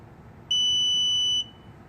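A single loud, steady electronic beep lasting about a second sounds from a Hansshow power trunk controller on a Tesla Model 3 during setup, over a faint background hiss.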